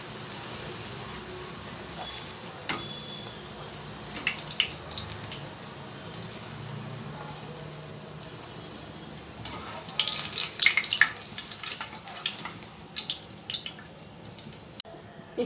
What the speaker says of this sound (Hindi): पूरी डालने के बाद हल्के से नीचे की तरफ इसको प्रेस करना पूरी को तेल में।